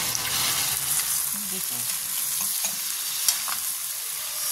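Tomatoes sautéing in a pan for a Filipino ginisang patola (sponge gourd) dish, a steady broadband sizzle with occasional stirring scrapes, close and continuous with no talk.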